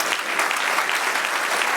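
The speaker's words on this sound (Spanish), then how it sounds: "Dale un aplauso al Señor." A church congregation claps together during a Spanish-language sermon, a dense, even burst of applause with rhythmic clap accents, close and sustained.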